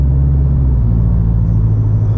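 Steady deep exhaust rumble from a Subaru BRZ fitted with an aftermarket header, holding a low, even drone while cruising, loud and close with no voices.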